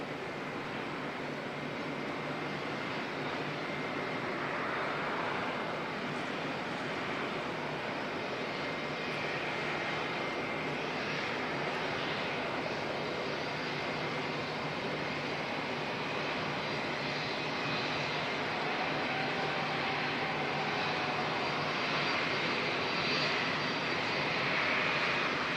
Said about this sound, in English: the Air Chatham's ATR is heading off down to Wanganui